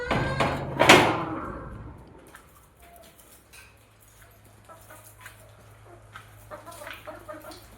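A sharp bang opens the clip, then chickens cluck now and then in short bursts in a coop against a quiet background.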